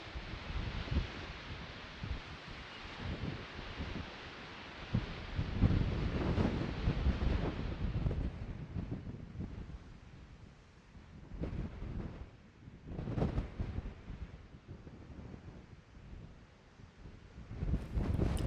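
Strong wind batters the microphone on sea cliffs at Bullers of Buchan, with gusts rising and falling in low rumbling blasts over a rushing background.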